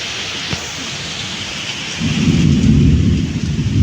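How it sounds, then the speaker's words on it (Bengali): Evening cyclone storm: steady rain hiss, then a deep rolling thunder rumble that swells midway and stays loud to the end, over heavy outdoor downpour with no speech. "এখন শুরু হয়েছে বৃষ্টি।"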